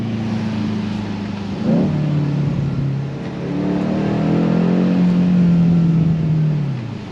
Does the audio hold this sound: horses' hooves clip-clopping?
no